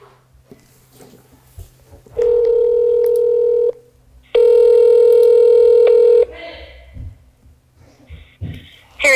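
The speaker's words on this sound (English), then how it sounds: "pick up the phone and call" A telephone call being placed, a handset tone giving two long, loud, steady ringback tones with a pause between them, surrounded by quiet handling noises.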